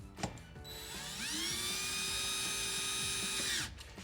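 Power drill driving bolts for a Delta R2707 deck-mount Roman tub faucet rough-in on a thick deck: a steady, close whirring run of about two and a half seconds, rising in pitch as it spins up, then stopping abruptly.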